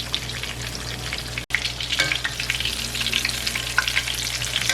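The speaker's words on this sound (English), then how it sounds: "Sizzle, sizzle." Steady, close sizzling and crackling of sausages frying in a hot pan, with a brief dropout partway through.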